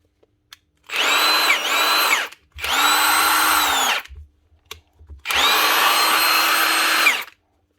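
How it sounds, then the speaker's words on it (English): A Milwaukee nut gun, just cleaned out and serviced after a squealing fault, runs at full power in three sustained whirring bursts of about one to two seconds each. The bursts are close and loud, separated by short silences with faint clicks. "Milwaukee Nut Gun"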